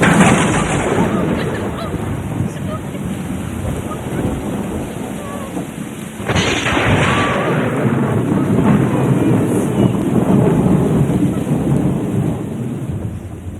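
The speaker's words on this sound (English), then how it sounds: "anybody feel like this storm is gonna turn into another Irma or Maria?" A heavy storm sound effect with thunder and wind, hurricane-like, rumbling loudly and steadily with a rain-like wash and a sharper crack of thunder partway through.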